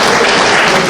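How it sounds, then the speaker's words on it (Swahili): A church congregation applauds loudly at a Kenyan political gathering, a dense, close wash of clapping that fills the whole moment. "Askofu, tupigie makofi."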